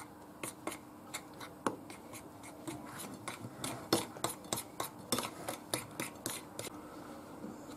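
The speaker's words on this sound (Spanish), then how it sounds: "se echa la harina y se sigue batiendo" A whisk scrapes and clicks in quick, uneven strokes against a bowl as flour is worked into pastry cream, close up and fairly quiet, with no voices.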